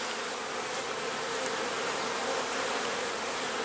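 A dense, steady hum of many honeybees buzzing inside an open hive during queen installation, a continuous close swarm drone with no voices.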